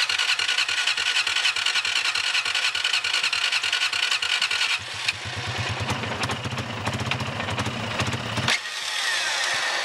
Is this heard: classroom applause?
no